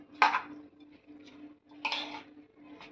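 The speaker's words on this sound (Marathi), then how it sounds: "हे पहा, तांदूळ घातलाय आणि तो मी आता थोडं परतून घेते." A spatula scrapes and clinks against a cooking pot as soaked rice is sautéed for a quick prawn rice dish, in two short, fairly quiet bursts with no talking.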